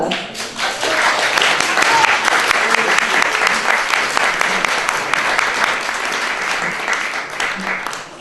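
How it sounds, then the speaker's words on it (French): Audience at a literary evening applauding guest Pierre Bellemare, a loud, full round of clapping that swells quickly and holds steady, with a few voices mixed in. "Pierre que nous pouvons applaudir"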